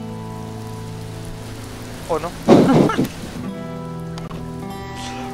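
Steady rain patters under a low hum, and a voice speaks briefly partway through.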